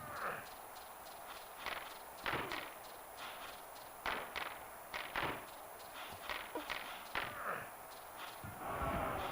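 Video game gunfire played through an HDMI adapter on a console, a series of irregular sharp shots and thuds at moderate loudness over a low background hum.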